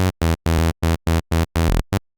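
A buzzy, bright sawtooth synth bass made in Serum plays eight short staccato notes in a choppy rhythm, loud and up close, with no voices.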